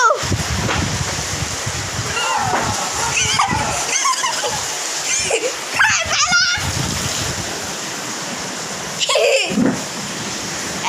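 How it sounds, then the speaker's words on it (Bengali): Heavy rain pours and splatters during a darkening storm, a dense, steady wash of water close by, with someone talking intermittently over it. "এমন অন্ধকার করে শুরু হচ্ছে, ঝড় হবে, এমন বৃষ্টি পড়তেছে"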